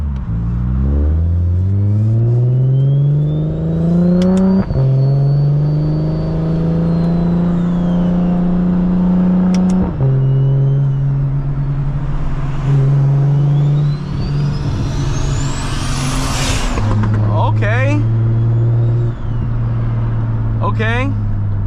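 A turbocharged BMW 335i fitted with an M54 engine and DR700 single turbo drives on low boost. Its engine note climbs steadily through repeated gear pulls, loud and close from inside the cabin. Voices talk intermittently over the drone.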